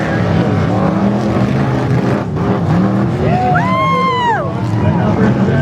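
Off-road race trucks and Jeeps racing at Central Oregon race park, with a continuous engine roar from several vehicles and one engine revving up and down in rising and falling sweeps, with crowd noise underneath.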